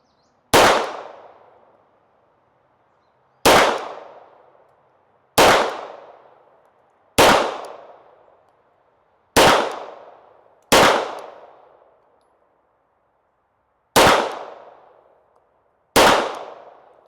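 Eight loud, sharp shots from a late-war Radom VIS 35 military pistol fired at a 25-yard target, spaced irregularly with a quick ringing decay after each and silence between.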